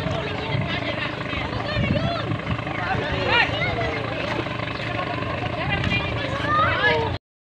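Rotor-like whirring of an aircraft buzzes steadily over a capsized outrigger boat at sea, with wind buffeting and several people talking and shouting throughout.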